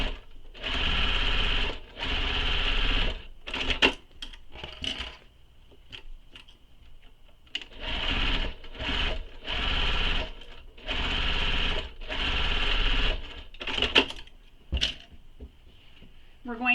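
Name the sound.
sewing machine sewing across a seam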